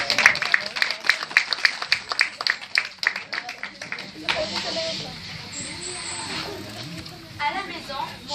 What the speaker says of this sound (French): Je vous remercie de bien les applaudir